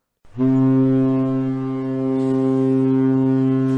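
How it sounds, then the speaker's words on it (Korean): A ship's deep foghorn-like horn booms from the sea near an island, a single long sustained blast that swells in and holds steadily for over three seconds with no talk over it. "그때 멀리서 배의 고동 소리가 조금씩 들려왔다."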